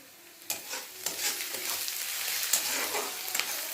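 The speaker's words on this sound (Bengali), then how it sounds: "উপরে যে চিকেন মশলা দিলাম যে পেঁয়াজ ভাজছি" Onions sizzle steadily in a hot pan with oil, a constant frying hiss broken by several clacks of a spoon stirring, close and fairly loud, with no one talking.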